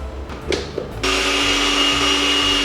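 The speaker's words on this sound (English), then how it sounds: "So I'll cover my blender and we'll start blending." After a brief clatter, a blender motor kicks on abruptly and roars steadily at high speed grinding peanuts for suya spice mix, loud and close, without pause.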